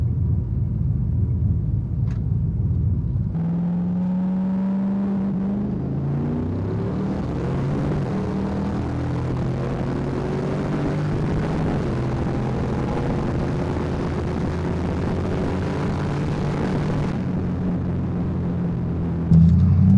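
A turbocharged Ford Mustang launches down a drag strip, its engine rising through the gears in a loud sustained roar with climbing pitch that holds for about fourteen seconds before cutting off, heard alone without talk.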